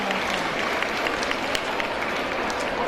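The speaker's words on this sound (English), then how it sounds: "I request all the parents to give a huge round of applause to our students" Clapping from parents in the audience at a school annual day celebration, a continuous wash of many hands at moderate volume with a few sharper individual claps.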